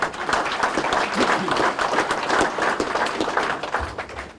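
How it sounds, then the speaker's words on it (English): Banquet guests at a fire district installation dinner give a round of applause for a state senator, steady full-room clapping for over four seconds with a few voices mixed in. "A round of applause for Senator Borrello"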